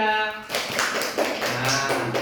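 Classroom applause from students for a group, a brief burst of scattered hand claps that starts after a voice and fades under light talk.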